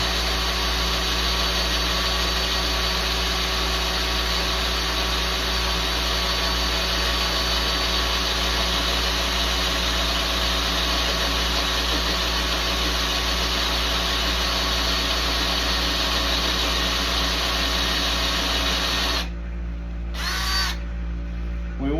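Power drill boring holes with a brad point bit into a wooden serving tray, a steady loud whine held for about twenty seconds, then cutting off with brief restarts near the end.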